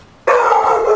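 A dog in the video game Icarus gives one sudden bark that flows into a drawn-out, howling yelp, loud and near, after a brief quiet moment.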